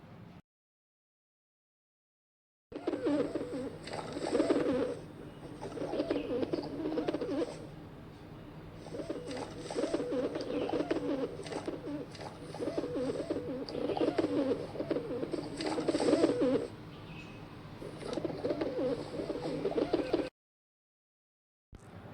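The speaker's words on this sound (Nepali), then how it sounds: "परेवा" A pigeon coos in repeated soft, low phrases over about twenty seconds, close and fairly quiet, with brief pauses between bouts and no voices.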